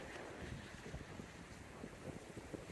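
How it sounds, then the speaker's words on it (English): A shallow, ankle-deep creek about thirty feet wide in Nevada, flowing gently, gives a continuous rushing wash outdoors, mixed with gusty wind buffeting the microphone. "It's a creek crossing."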